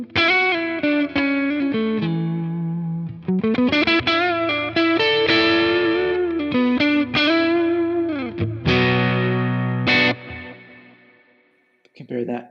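An electric guitar runs through an edge-of-breakup Tone King amp capture on a Quad Cortex, playing a lively run of chords and single notes with slight grit. A sustained chord rings out near the end, then a quick final strum.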